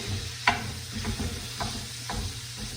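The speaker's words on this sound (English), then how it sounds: "All right, ground lamb in the pan." Ground lamb sizzles in a frying pan, a steady crackling hiss punctuated by several scrapes and stirs of a utensil against the pan.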